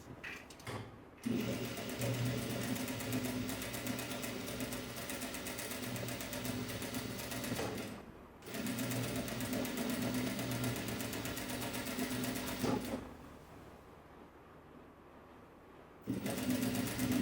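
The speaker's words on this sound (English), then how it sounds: "Now we're gonna sew the side together." A sewing machine stitches the side seam of an ao dai in long steady runs of fast mechanical whirring, pausing briefly twice, with a quieter stretch near the end before stitching resumes.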